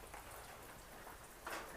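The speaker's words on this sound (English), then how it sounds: "it hasn't stopped raining since about midday or earlier" Steady rain falling outdoors at a shop site where a retaining wall is being built, a soft continuous hiss that swells briefly near the end, with no voices.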